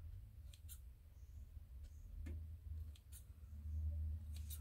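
Scissors snipping a small piece of thread, several faint, quick, crisp clicks spread across a quiet low hum.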